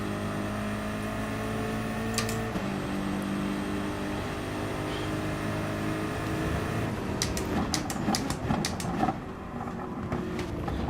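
A racing car engine drones steadily in Gran Turismo Sport, tucked into another car's slipstream, with a continuous tonal hum that shifts pitch partway through and gives way to rougher, clattering bursts near the end, with no talk.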